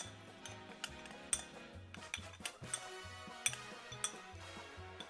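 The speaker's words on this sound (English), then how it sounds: "I'm gonna mix up all of my spices." Spices for taco meat stirred in a bowl, a quiet run of light clinks and taps from a utensil against the dish, with a low steady rhythmic tone beneath.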